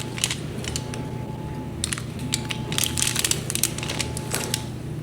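A knife slices ridges into a block of cream cheese being prepared for smoking with bourbon and blueberry: a close series of soft, crunchy scraping clicks over a low steady hum.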